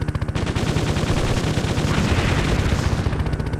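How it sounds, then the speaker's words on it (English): Loud, dense burst of weapon fire and blasts from a gunship's cannons in the video game Gunship, rapid pounding impacts running continuously for several seconds without pause. "And that big explosion for just infantry."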